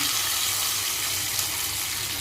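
About half a cup of water poured into a cooking pan after a spice tempering, while making dhokla batter: a steady, close rushing splash that runs unbroken throughout, with no talking.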